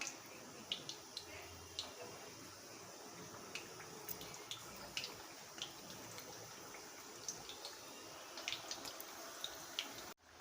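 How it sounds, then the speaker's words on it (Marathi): Taro-leaf rolls (alu vadi) frying in hot oil in a wok: a soft, steady hiss threaded with scattered small pops and crackles throughout, fairly faint and without talk. "ह्या आता अळूवड्या तळून घेऊया"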